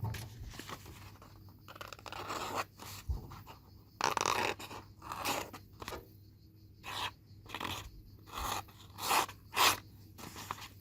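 Ryobi 14-in-1 compact multi-tool's knife blade cutting paper: separate short scraping, tearing strokes in irregular bursts, fairly close and quiet against a faint background hum.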